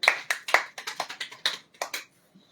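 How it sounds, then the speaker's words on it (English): A small group claps for children on a radio talk show, about a dozen distinct, fairly sharp hand claps in a loose, uneven rhythm that thin out and stop after two seconds. "A big round of applause for them."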